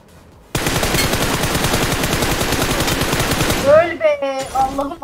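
Loud sustained automatic gunfire from an MG3 machine gun in the PUBG Mobile game on the Erangel map, a rapid unbroken burst running several seconds before cutting to short bursts and game effect sounds.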